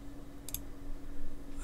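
A computer mouse gives a single quick, crisp double click while someone works in Microsoft Sway. The click is close but faint over a low background hum, with no speech.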